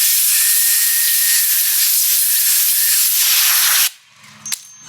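Loud hissing water spray rinses cleaned kingpin parts from a 1957 GMC truck, a steady forceful jet for about four seconds before cutting off abruptly, followed by a brief faint clatter.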